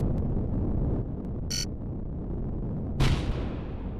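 A drone blows up in the space-combat game Quintet, a sudden loud boom with a sharp burst and decaying rumble cutting through a steady engine drone, preceded by a few small pops.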